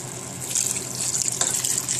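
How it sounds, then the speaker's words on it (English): Coconut juice pours into a pan of Vietnamese braised fish, a steady, close liquid stream with a bright splashing hiss that surges slightly midway and continues without talk. "Now I'm going to add the coconut juice."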